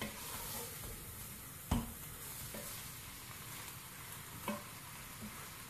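Keema mince and peas frying in a pan while being stirred, a steady close sizzle with occasional scrapes and clicks of the spoon against the pan.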